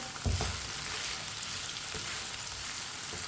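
Okra frying in oil in a pan while a spoon stirs it, a steady dense sizzle with a few soft scraping knocks near the start, close and continuous with no talking.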